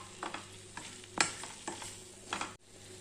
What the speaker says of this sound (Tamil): வேக வச்ச சேனைக்கிழங்கு போட்டு நல்லா ஒரு பரட்டிக்கலாங்க